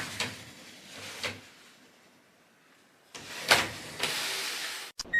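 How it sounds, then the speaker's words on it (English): A sliding door in a newly shown house opens with a rolling rumble and a sharp clack near the end, after a few quieter thumps of handling at the start, heard close and without talk. "Let's go in this sliding one first."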